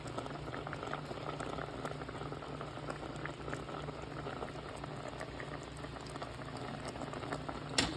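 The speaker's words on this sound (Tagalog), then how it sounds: "ayan na po ang ating paksiw kumukulo na siya" A pot of milkfish paksiw (fish stew) bubbling steadily at a rolling boil, continuous close gurgling and popping with no talk.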